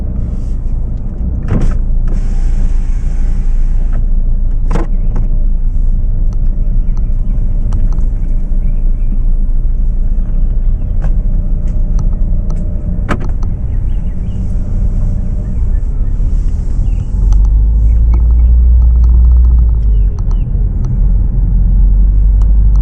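Steady low rumble of a car driving through a small town, loud and continuous with a brief swell of engine drone near the end, no talk.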